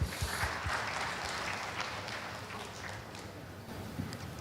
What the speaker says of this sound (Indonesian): Jadi tepuk tangan dulu dong semua ya buat Mbak Neneng.